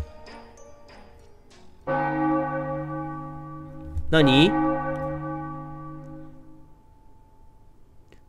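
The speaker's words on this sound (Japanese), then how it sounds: "鐘の音？" A church bell rings in a video game with one loud, resonant strike that hums and fades, then a second clanging hit rings out. A brief spoken word comes before the bell.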